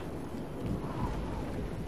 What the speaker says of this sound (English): Oh no, it's storming.